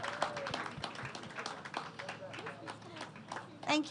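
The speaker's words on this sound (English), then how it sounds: "Let's give them a round of applause." A conference audience gives scattered applause for three top contestants, with uneven claps mixed into chatter and people talking nearby, the clapping loose and moderately loud throughout.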